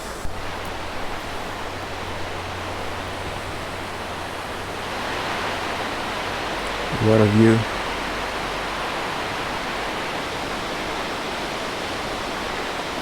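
Stream and waterfalls on the Korana River in Croatia roar in a steady broadband rush from below a small cafe, with a brief spoken remark partway through.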